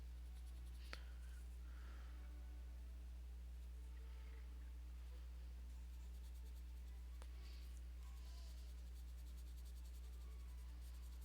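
Light, soft shading strokes of a Nyoni colored pencil on paper, faint intermittent scratchy bursts spread over several seconds with a couple of sharp small ticks, over a constant low electrical hum and no talking.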